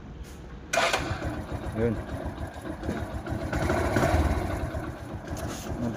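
Skygo Pony100 motorcycle engine brought to life by its electric starter, a sudden burst followed by a steady low idle that continues close by, while someone speaks briefly.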